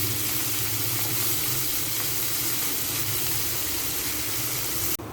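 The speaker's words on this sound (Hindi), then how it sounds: "यहाँ 1 मिनट के लिए मैंने प्याज को अच्छे से फ्राई कर लिया।" Chopped onions fry with garlic in a pan, giving a close, steady, hissing sizzle that runs unbroken to the end, with no talking over it.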